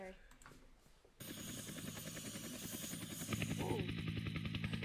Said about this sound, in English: I love the sounds of the helicopters when it turns.